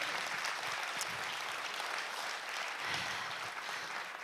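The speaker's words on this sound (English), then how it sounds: "Big applause to get this started." An audience gives steady applause welcoming author Sandro Veronesi at a meet-the-author event, the dense clapping fairly soft and continuous with no voices over it.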